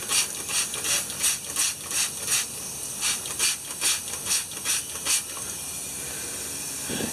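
Air hissing from a leaking fitting on a 1976 Detroit Diesel firetruck while it is tightened, a faint steady hiss broken by rhythmic rasping pulses of wrench work, then settling.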